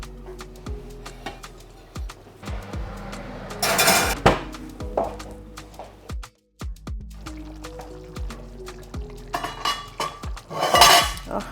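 A skillet clanks and scrapes as it is handled and slid into an oven, with scattered metallic clinks and knocks and two louder bursts of clatter in a quiet kitchen.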